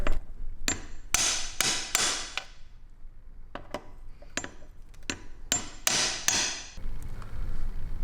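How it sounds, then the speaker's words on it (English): A hammer taps a cap into place on a BMW ZF 5-speed manual transmission with a series of sharp, close metallic strikes, some single and some in quick pairs, over about eight seconds. "We're just gonna give it a tap just to be sure."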